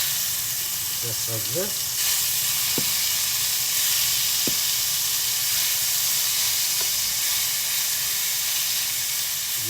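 Beef searing in a hot pan, a loud steady sizzle and hiss that runs throughout with a few faint scrapes, while a person speaks briefly over it.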